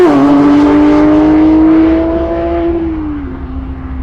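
A loud, close 2022 Porsche 911 GT3 Touring's 502-horsepower six-cylinder engine holds a high, steady rev, then eases off and winds down as the sound fades slightly at the end.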